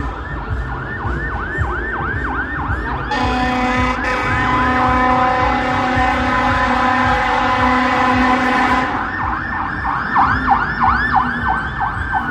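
A fire truck siren wails in repeated rising sweeps, with a loud blaring horn for several seconds in the middle, over traffic noise, approaching a fire at abandoned buildings in Toronto.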